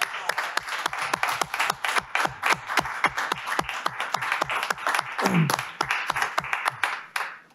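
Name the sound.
round of applause at a council meeting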